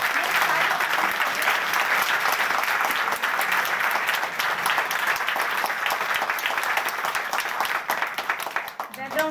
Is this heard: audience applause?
yes